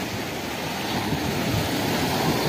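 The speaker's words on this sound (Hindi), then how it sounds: "समंदर की लहरें ज़बरदस्त है एकदम" Rough sea waves roll and crash near a Mumbai seafront, a loud, steady wash of surf and wind that fills the whole stretch without pause.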